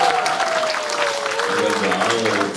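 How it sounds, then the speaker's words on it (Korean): Large concert audience of roughly three thousand applauding at a Korean 7080 pop show, dense sustained clapping with crowd noise, mixed with a steady musical tone and background voices throughout. "박수 소리 들어보니까 한 3천 명 정도 오신 것 같아요."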